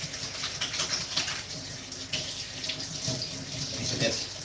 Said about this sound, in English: I need to wash my hands.